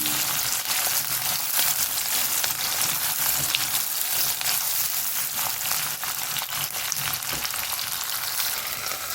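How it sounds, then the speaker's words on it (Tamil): Onion and green chili frying in a pan, a steady broadband sizzle with crackling pops throughout, loud and continuous with no talking. "பெரிய வெங்காயம் போட்டுக்கிறேன்"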